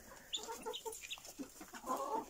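Hens cluck softly in a henhouse as chickens peck at scattered grain, a quick irregular run of short, close clucks over a low hum, with no talking.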